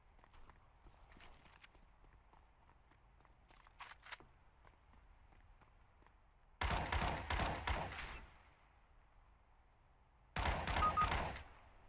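Automatic rifle fire in the video game CS:GO, two loud sustained bursts of rapid shots separated by quiet stretches with faint footsteps and a few single distant cracks.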